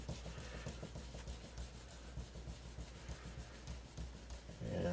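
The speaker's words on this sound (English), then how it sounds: "And you rub off the excess before it dries." Clean cloth rubbing excess treatment off the fingerboard of a 2016 Gibson Firebird guitar, a soft, steady close-up scrubbing and swishing, quiet and continuous with no talk.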